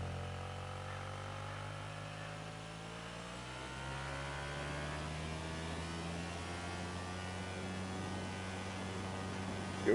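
Steady droning hum of a go-kart engine at a camp track, a continuous mid-pitched whine holding fairly even for the whole stretch with no talk over it.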